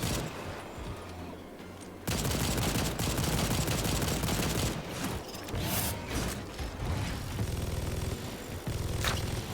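Sustained automatic gunfire in the video game Second Extinction, a loud rattling stream of shots starting abruptly after a quieter opening and continuing with short pauses and mechanical clatter, no talking.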